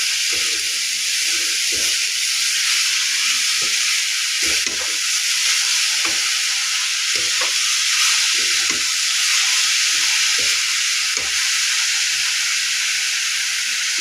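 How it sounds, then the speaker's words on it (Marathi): Chili powder is stirred in a hot cooking pan while making beetroot halwa, giving a steady close sizzling hiss broken by soft scraping and tapping clicks throughout. "मिरची पावडर तिघी हलवून घ्यायची आहे"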